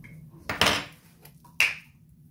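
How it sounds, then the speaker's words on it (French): A home kitchen salt container is opened with two separate sharp clacks about a second apart, close and fairly loud, the first followed by a brief rattle and a faint knock in between, with no voice. "Voilà, quand j'ouvre mon sel."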